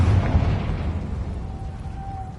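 A Confringo blasting spell goes off in Hogwarts Legacy on PS5: a loud, close explosive boom at the start that rumbles and slowly fades over a couple of seconds.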